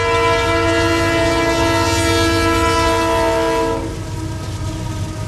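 A train passing the busy Rochelle railroad junction where two major lines cross, its horn blaring loud and sustained for several seconds before cutting off, leaving the rumble and rattle of rolling rail cars.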